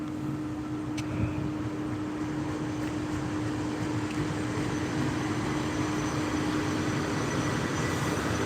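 A SEPTA commuter train passes at Bryn Mawr on the Main Line, a steady broadband rumble with a sustained tonal hum, continuous and fairly close for the whole stretch, with no voices.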